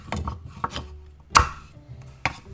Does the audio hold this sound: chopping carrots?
yes